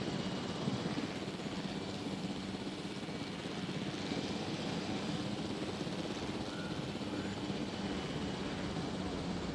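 Helicopter in the video game Jurassic World Evolution on Xbox One: a steady, unbroken rotor and engine drone fills the whole stretch at an even, moderate loudness, with no talk over it.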